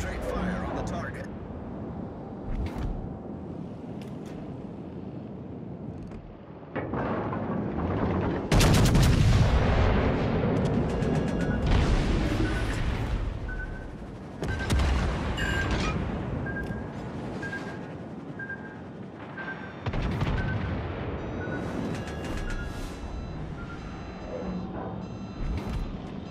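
Naval gunfire in the warship game World of Warships: Legends, with repeated heavy booming salvos and rumbling blasts spread across the clip amid battle noise and occasional radio-style voice callouts.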